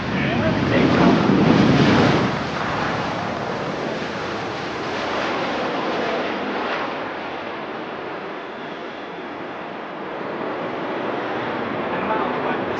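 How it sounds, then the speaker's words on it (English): A Sukhoi Su-30MKI fighter jet's engine roars at takeoff during the Aero India 2025 air show, a loud broad rushing thunder that swells early, then holds as a steady distant rumble. "that Sukhoi 30 MKI rolling can hear the thunder of its engine."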